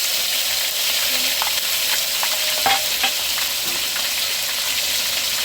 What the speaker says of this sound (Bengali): দিয়ে দিচ্ছি পেঁয়াজ, দিয়ে দিচ্ছি রসুন বাটা